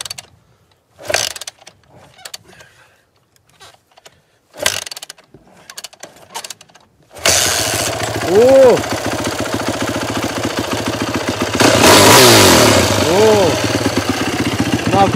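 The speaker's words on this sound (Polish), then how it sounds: "zobaczymy jak odpala się WR" A WR motorcycle engine cranks and fires up, then settles into a loud, steady idle with revving rises, after sparse clanks and handling noises; people talk briefly beforehand.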